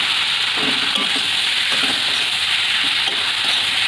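Cabbage and potatoes, fried earlier, are stir-fried in oil in a pan, giving a steady, dense sizzle with soft scraping stirs breaking through at intervals.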